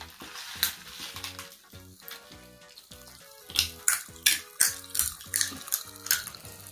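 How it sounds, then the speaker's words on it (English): Popping candy crackles and fizzes inside a mouth in a run of sharp, irregular bursts that grow denser and louder toward the end, with a steady tonal hum running underneath. "we have popping candy and it pops in your mouth, like it makes that noise"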